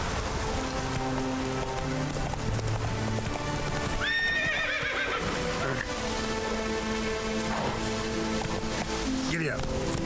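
Roach gallops in The Witcher 3 with rapid clip-clopping hoofbeats, and a clear neigh breaks out midway through. Rain patters around the horse and a voice speaks briefly.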